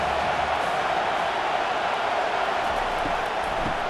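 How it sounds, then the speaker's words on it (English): Stadium crowd in the video game NCAA Football 25, a steady dense roar of many voices, even and unbroken throughout, with no clear cheers standing out. "this crowd trying to help keep them there"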